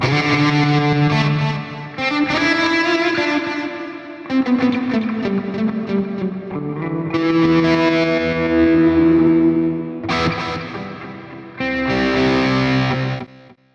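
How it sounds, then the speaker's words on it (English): Electric guitar played through a Line 6 POD Express with reverb switched on, a steady stream of sustained, effect-washed notes and chords ringing out alone for about fourteen seconds, with brief gaps between phrases. "There's a reverb."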